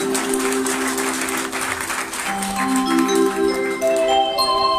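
Devotional concert audience clapping for the accompanying musicians, brisk applause at the start over sustained instrumental tones, fading as held harmonium-like notes rise and continue alone.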